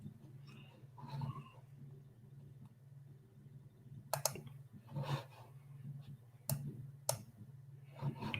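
Computer mouse clicking to sign an online petition: a few sharp, isolated clicks spaced several seconds apart over a faint steady hum, with no talking.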